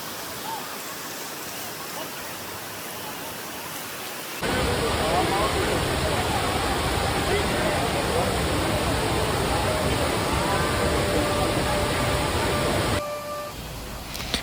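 Bhaje waterfall near Lonavala in monsoon season, its water rushing as a loud, steady, dense roar that swells in abruptly and holds for several seconds before dropping back to quieter ambience.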